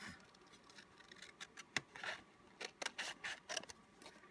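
Scissors cut a sheet of paper in half while a paper flower is being made, giving a series of crisp, close snips in an irregular rhythm in an otherwise quiet room.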